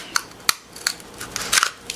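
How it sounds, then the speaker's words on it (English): Scissors snip a cardboard toilet paper roll in several crisp, close cuts at an uneven pace, with rustling of the cardboard between snips. "you're going to cut, open it so your scissors can go in, and you're going to cut the edge"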